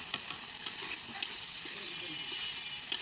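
Small potatoes and whole garlic fry in a pan with a steady, close sizzle, brief stirring clicks and scrapes surfacing now and then over the constant hiss.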